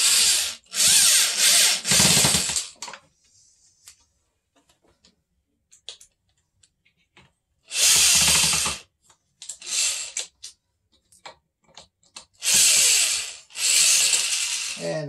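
Power drill driving self-tapping screws into the motor mounts of a homemade rock tumbler, in loud bursts of whirring and grinding roughly two seconds long, separated by quiet pauses with small clicks and taps.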